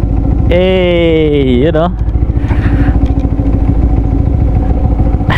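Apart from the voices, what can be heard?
Yamaha R15 V3 motorcycle with Yoshimura exhaust pipe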